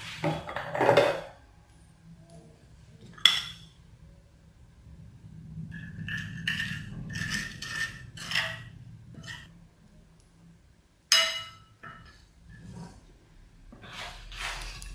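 Paneer is stirred with black pepper and salt in a dish, giving a few sharp clinks of a spoon against the bowl and soft scraping in between, close and otherwise quiet.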